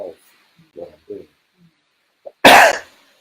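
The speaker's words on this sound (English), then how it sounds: "you're having a coughing fit" A coughing fit: a few soft scattered coughs and throat sounds, then one loud, harsh burst close by.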